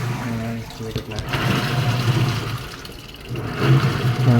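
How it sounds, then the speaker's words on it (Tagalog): A Whirlpool automatic washing machine fills with water and begins washing, a steady rushing of water with a low motor hum, and a voice talks over it. "Yan, so nag-wash na siya."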